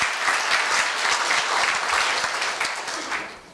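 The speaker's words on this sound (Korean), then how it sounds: "다시 한번 우리 이재봉 차장님 짧은 퇴임사 감사 큰 박수로 예, 맞이해 주시면 감사하겠습니다." Staff audience at a university retirement ceremony giving a round of applause after a short farewell speech, a full, dense burst of clapping that holds steady and then tapers off at the end.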